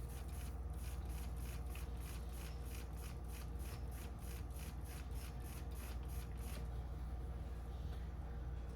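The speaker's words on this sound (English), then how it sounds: "I'm just going to carefully whisk that in together" Coleslaw dressing is whisked in a bowl, giving a quiet, rapid rhythmic scraping of about a dozen even strokes that stops partway through, leaving a soft background hum.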